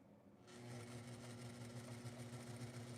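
A sewing machine starts up and runs steadily, stitching along the very edge of a hem, a continuous close mechanical whir with rapid rhythmic ticking and a low hum, no talking.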